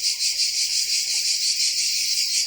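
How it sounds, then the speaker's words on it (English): Crickets chirp at night in Tbilisi, Georgia, a dense, steady high-pitched trill that goes on without a break, close and fairly loud with no voices. "I like these crickets."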